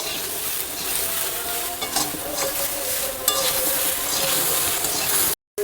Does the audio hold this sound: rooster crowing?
no